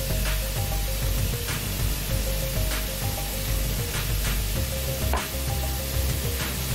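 Meat and onion, seasoned with salt, sizzle and fry steadily in a pan, a continuous close crackle with scattered pops and clinks of stirring, no talking.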